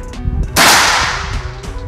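Single sharp air rifle shot at target practice, a sudden loud crack followed by a brief decaying report over a low background hum, with no talk.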